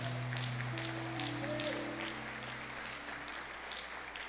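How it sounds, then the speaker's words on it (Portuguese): A church congregation applauds in a dense, continuous patter of clapping that holds steady and then gradually softens, with a sustained organ or keyboard tone underneath. "Aplauda o Senhor"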